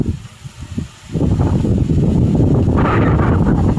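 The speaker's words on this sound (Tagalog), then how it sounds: "Lakas ng hangin dito sa" Strong wind on a mountain buffets the microphone in a loud, continuous roar that builds after a brief quieter moment.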